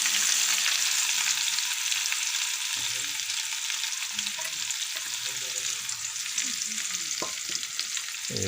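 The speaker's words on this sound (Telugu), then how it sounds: "ముందుగా కోసి పెట్టుకున్న ఉల్లిపాయలు పచ్చిమిరపకాయలు దాంట్లో వేసి వేయించుకోవాలి" Chopped onions and green chillies fry in hot oil for a dried fish and ivy gourd curry. A loud, steady sizzle runs the whole time, broken by occasional soft knocks from stirring, with no voices.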